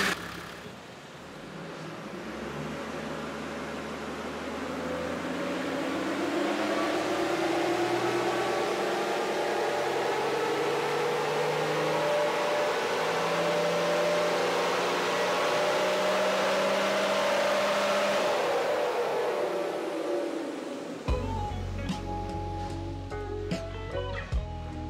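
A Nissan TD42 diesel engine winds up under load during a first tuning run, a sustained rising roar that climbs in pitch for about twenty seconds, then drops off into clattering idle and mechanical knocks.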